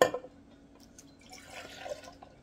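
Sparkling water is poured into a Tito's vodka spritz, starting with a brief splash and drip. A soft, quiet fizzing hiss follows from the glass.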